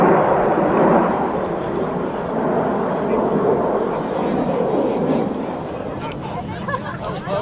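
Red Arrows jets fly low in formation at an air festival, trailing smoke. A loud, continuous jet roar sweeps past and slowly fades, with crowd murmur beneath it.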